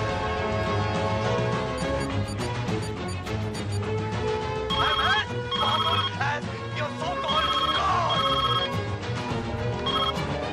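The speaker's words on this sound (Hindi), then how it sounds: "साहब, डॉक्टर अस्थाना का फोन है।" A telephone rings in a doctor's office scene from a Hindi crime drama, its repeated bell tones sounding over a busy, continuous music score with no speech.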